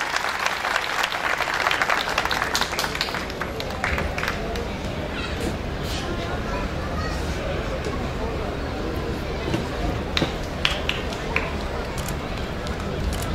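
Sustained, loud crowd applause welcoming the mayor on stage at a regional cultural days event in Zeytinburnu, a dense, continuous roar of clapping from a large audience.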